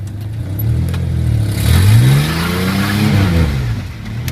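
A Ford Ranger pickup on a wet, leaf-covered road in the rain, its mid-range engine revving up and holding high for a tire skid, then easing back down, close and loud with no talk.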